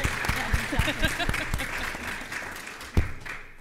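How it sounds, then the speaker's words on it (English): Audience applause in a conference hall at a political convention, brief claps over a spoken voice, tapering off, with a sharp clap or thump near the end. "Give some applause for that"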